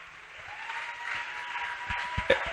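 Church congregation applauding and cheering during a service, moderate clapping that builds gradually with scattered shouts, heard at a distance.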